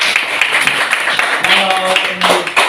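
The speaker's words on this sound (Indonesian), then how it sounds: "Tepuk tangan untuk kawan Ray." Applause from a classroom audience for a student's presentation during a teaching-practice exam: dense, steady clapping from a group, filling the room at close range for a few seconds.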